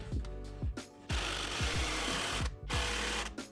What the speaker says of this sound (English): I'm just gonna start some screws in here.